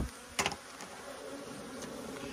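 A steady buzz of many honeybees at a hive fills the air, with a few louder passes as bees fly close by.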